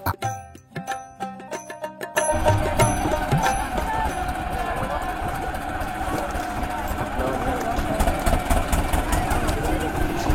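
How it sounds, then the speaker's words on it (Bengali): A ferry boat's engine heading to an island in the Sundarbans during the Poush Mela festival rumbles steadily at idle. A few sharp knocks and clatters come first, then a continuous mid-to-low drone carries on close by. "এই যে আমাদের ফেরিটা এবার চলে আসছে, দেখো।"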